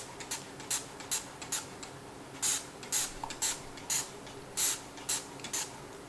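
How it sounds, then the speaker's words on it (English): A series of short, sharp hissing spray bursts of stain remover at irregular intervals, with faint clicking from the trigger between them, close by. "I'm gonna spray this all over this."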